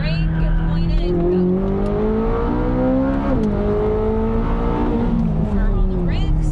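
A Corvette on a race track brakes, downshifts and accelerates, its engine note rising and falling with a blip mid-clip, heard close and loud from inside the car with some talk over it.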